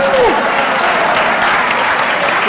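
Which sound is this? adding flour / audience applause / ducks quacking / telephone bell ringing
audience applause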